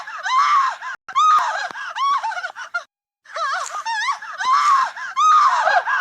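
A phone's anti-theft alarm blares a loud, shrill screaming wail in repeated bursts, with brief silent gaps between them.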